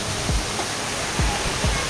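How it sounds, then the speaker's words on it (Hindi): A mountain waterfall on the Amarnath Yatra route roars as a loud, steady broadband rush of falling water, close by and constant, with a few low thumps beneath it. "माउंटेन झरना।"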